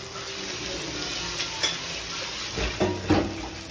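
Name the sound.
onions frying in a pan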